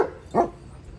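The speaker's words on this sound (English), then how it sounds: "And Kane and Annie, the dogs being loud." Two pet dogs, Kane and Annie, let out a single short, sharp bark at close range over quiet background noise.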